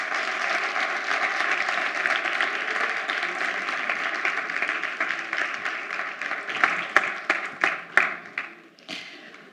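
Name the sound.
audience applause after conference talks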